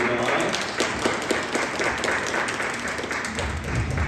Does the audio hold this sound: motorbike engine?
no